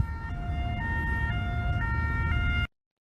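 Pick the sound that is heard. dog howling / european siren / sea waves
european siren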